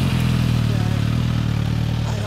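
A 1997 Honda VTR1000F Firestorm (SC36) fitted with an Ethos aftermarket exhaust idles steadily nearby, its deep, even rumble running unbroken, with voices talking over it.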